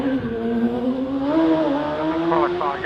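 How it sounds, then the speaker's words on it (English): A 599 cc hillclimb race car accelerates past at a Midland championship hillclimb at Loton Park, its rising, rasping engine note swelling close by and then pulling away toward the finish line, with a commentator talking over it. "Just coming past me now. 599 cc, squeezing away as it heads towards the line"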